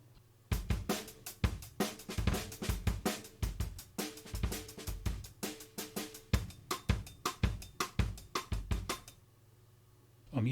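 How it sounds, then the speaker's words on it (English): A two-bar drum break looped from an audio clip, punchy kicks, snares and hi-hats in a steady breakbeat groove, loud and dry with no voices, stopping shortly before the end. "where I have this 2-bar drum break audio clip."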